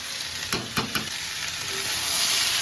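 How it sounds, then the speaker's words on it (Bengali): Cabbage and mixed vegetables stir-fried in a pan for winter khichuri, a steady broadband sizzle with a few sharp clicks of the spatula early on, close and continuous. "আমাদের সবজিটাকে খুব ভালো করে কষিয়ে নিতে হবে।"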